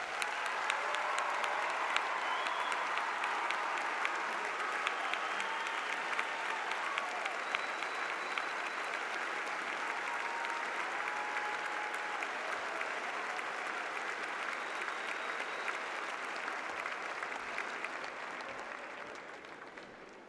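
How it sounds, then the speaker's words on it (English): A graduation audience at Tuscaloosa County High School claps for the class of 2025, a dense, sustained round of applause from a large crowd that holds steady for about eighteen seconds before starting to thin out. "Please join me in giving them a round of applause."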